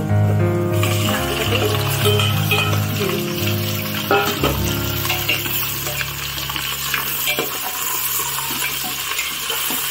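Chicken meat frying in a pan, with a steady loud sizzle throughout and occasional stirring clatter, close up, under a music track.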